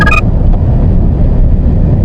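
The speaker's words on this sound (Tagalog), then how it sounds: "Yan, hirap na yung makina oh." Car engine straining in third gear while climbing an uphill road, a loud, steady low rumble with road and wind noise, preceded by a brief chime at the very start.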